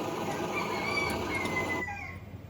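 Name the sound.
Optimus 8R camp stove burner running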